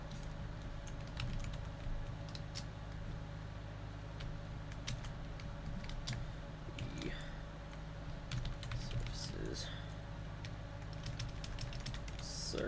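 Close, quiet keystrokes clatter irregularly on a computer keyboard over a low hum, coming in quick bursts with short pauses and no talking.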